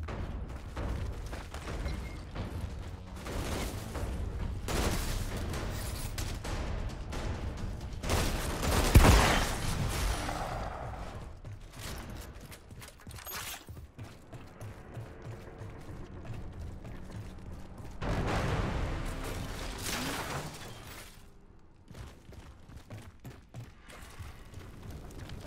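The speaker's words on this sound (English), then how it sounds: "The shotgun sounds a bit weird." Shotgun blasts in the video game Outriders, heard as a few loud, sharp bursts spaced apart, the biggest near the middle, over constant mechanical clatter and game background noise.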